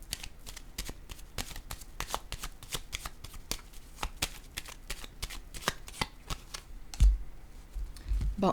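Tarot cards click and tap in a quick, steady run of sharp little snaps as they are handled and set down on a table, ending with a few louder knocks.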